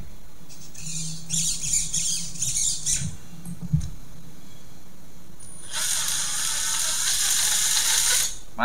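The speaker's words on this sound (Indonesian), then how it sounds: "Masih halus ya guys gearnya karena belum turun ke tanah guys." Metal gears of an Axial SCX10 RC crawler whirring off the ground, a fine ratcheting whine in short bursts, then a longer, louder run near the mic, with no speech.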